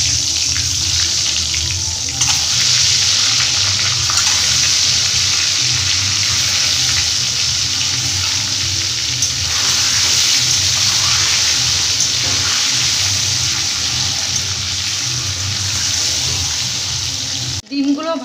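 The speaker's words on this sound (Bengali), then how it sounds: "আস্তে আস্তে ডিমগুলোকে ভেজে নিচ্ছি।" Duck eggs frying in mustard oil in a pan, a steady close sizzle and crackle running almost unbroken for the whole stretch, with faint clinks of stirring and no one talking over it.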